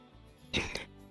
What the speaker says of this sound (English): I will be clearing my throat a lot